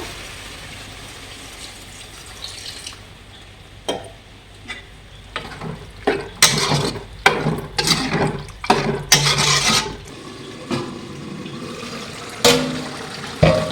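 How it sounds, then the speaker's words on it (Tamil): Water is added to a chicken pepper curry in a pan, setting off a run of loud, close sizzling and stirring bursts over a low, steady kitchen background. "தண்ணி ஆட் பண்ணிப்போம்."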